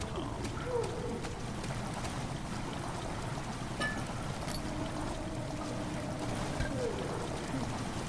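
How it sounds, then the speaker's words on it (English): Water slowly fills a stone chamber in the horror video game Amnesia: The Dark Descent, heard as a steady low rushing and trickling wash with occasional faint drips, continuous and fairly quiet throughout. "Water has slowly begun to fill the chamber."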